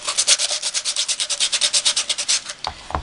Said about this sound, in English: I want to get that really sanded really well.